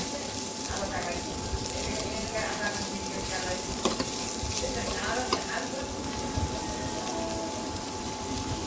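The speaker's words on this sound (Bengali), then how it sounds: "তারপর আমি মশলাটা ভালো করে একটু ভেজে নেব" Onion, ginger and garlic paste with spices frying in a pan for a prawn and potato curry, a steady close sizzle with occasional stirring scrapes, under faint background voice.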